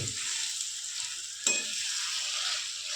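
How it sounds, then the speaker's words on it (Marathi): Boiled potatoes are stirred into the vada pav vegetable filling in a pan, giving a soft, steady sizzle and one brief scrape of the spoon partway through, with no talking. "आता बटाटे मिक्स करून घेऊया त्या ह्याच्यामध्ये भाजीमध्ये"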